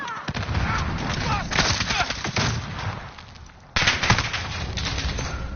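Gunfire in Call of Duty Modern Warfare multiplayer, loud rapid bursts of automatic shots and crackling reports that run almost continuously, briefly dipping before another sharp volley.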